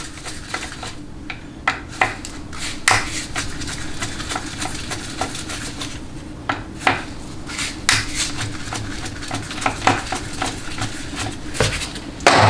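Metallic clinks and taps of a Phillips screwdriver working the filter bolts on a Chrysler Jeep A904 automatic transmission during teardown, with irregular sharp ticks and scrapes over a steady low hum.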